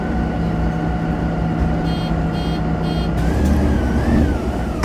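MAN NG312 articulated city bus in Ljubljana with its engine running, a steady loud diesel drone with a low tonal hum, brief mechanical clicks and a slight rev rising toward the end.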